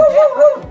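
A dog gives a short, high whimpering yip up close, one drawn-out plaintive cry lasting under a second.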